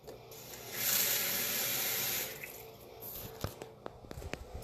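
Tap water runs into a cooking pot for cauliflower pizza crust, a steady hissing pour lasting over a second, followed by scattered drips and small clinks near the microphone.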